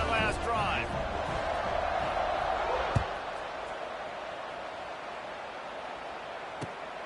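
A stadium crowd roars in the College Football 26 video game, a steady broad wash of crowd noise under play-by-play commentary, with a couple of sharp thuds.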